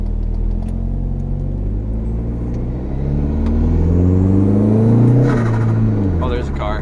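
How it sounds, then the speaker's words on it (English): A car engine rumbles close by, rising as the vehicle accelerates and passes, with a brief higher whine near the end. "Oh, there's a car."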